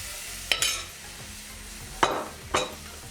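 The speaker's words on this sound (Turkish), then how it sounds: "Karıştırıyoruz" Semolina halva being stirred in a pot for orange halva, giving three sharp scraping clinks of a spoon against the pot over a quiet background, with no talk.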